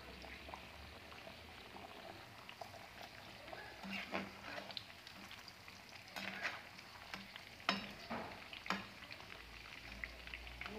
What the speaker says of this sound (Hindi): इसी ऑयल में मूली को भी फ्राई करेंगे मूली को भी तब तक फ्राई करना है जब तक इसका कलर लाइट ब्राउन ना आ जाए